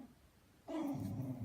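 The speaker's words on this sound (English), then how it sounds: "my dog is growling at" A pet dog at home gives a low, sustained growl, close and quiet, starting abruptly after a moment of near silence and continuing steadily until the end.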